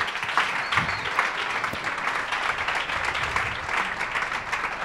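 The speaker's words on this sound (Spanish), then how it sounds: "esos aplausos, esos aplausos" Applause from the audience at a closing session of a festival in Barcelona, a sustained, even roar of many people clapping across the hall, steady and moderately loud from start to finish.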